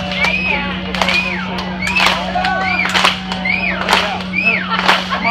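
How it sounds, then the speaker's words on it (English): At a rock concert in Gettysburg, Pennsylvania, the crowd claps along to a slow beat in loud, regular bursts, mixed with whoops and cheering over a steady hum. "So get some hands clapping."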